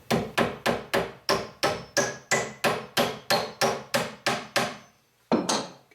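Hammer driving a nail into plywood for a platform bed: about fourteen sharp, evenly paced blows close by, then a brief pause and one final strike.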